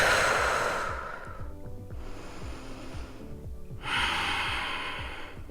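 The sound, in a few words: yoga breaths in bridge pose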